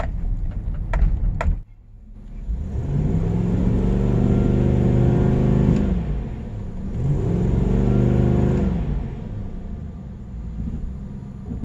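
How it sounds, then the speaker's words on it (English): A Chevrolet Silverado with a 3200 stall torque converter revs hard at full throttle twice, a loud sustained roar rising and holding, then dipping briefly before a second surge that fades off, with no talking. "just gonna go full throttle and see how high it goes off the bat"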